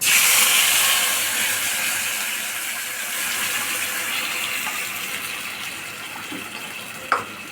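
Ridge gourd peel paste hits hot oil in a wok where black cumin was already tempering. A loud, steady sizzling hiss starts strong and slowly eases off. A faint clink sounds near the end, and there is no talking.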